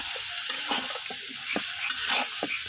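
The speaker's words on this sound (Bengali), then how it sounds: "তো এখন দিয়ে দেবো বেগুন আর আলুটা।" Eggplant and potato pieces hitting hot oil with fried-down spices in a pan, giving a steady sizzle broken by several clinks and scrapes of stirring, close up with no talk.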